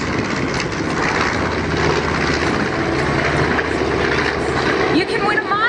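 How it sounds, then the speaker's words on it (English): A B-25 bomber flies over an airshow in a simulated dive-bombing pass, a loud, continuous propeller-engine roar that rumbles steadily, with an announcer talking over it. "Watch Panchito as it simulates a dive bombing attack on a Japanese warship"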